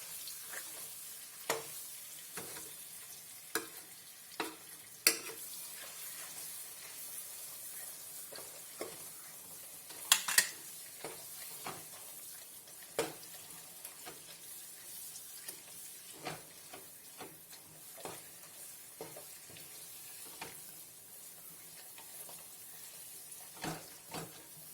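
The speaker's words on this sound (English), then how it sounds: "So I have my tomato paste in there. That's 3 spoons of tomato paste. I'll fry this." Tomato paste, three spoonfuls, frying in a pot for Nigerian jollof rice, a soft steady sizzle running throughout with repeated stirring scrapes and clicks of a spoon, close and moderately quiet with no talking.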